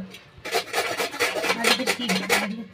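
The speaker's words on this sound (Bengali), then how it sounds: "আমার গ্রেট হচ্ছে, দেখুন মিহিভাবে।" Vegetables being grated finely for pakora, a rapid series of rhythmic rasping strokes against a metal grater, close and clear, each scrape repeating at a steady pace.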